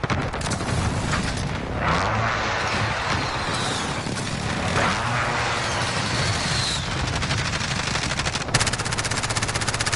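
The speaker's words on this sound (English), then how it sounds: "Enemy precision airstrike." Rapid automatic gunfire and blasts fill a Call of Duty Modern Warfare multiplayer match as a precision airstrike comes in, a dense, continuous near-field barrage with heavier booms breaking through around the midpoint and near the end.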